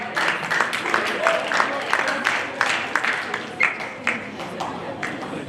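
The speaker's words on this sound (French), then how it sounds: "On applaudit les deux équipes." An audience applauds two quiz teams at a televised school quiz final, a burst of scattered hand claps under lively crowd noise and voices.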